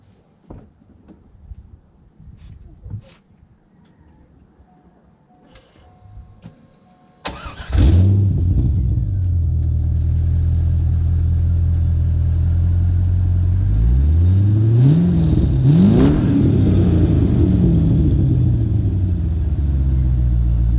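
Chevrolet C5 Corvette V8 with a Magnaflow muffler exhaust cranks and fires up loudly after quiet shuffling, then settles into a deep, steady rumbling idle with a couple of revs swelling midway, close and alone without talk.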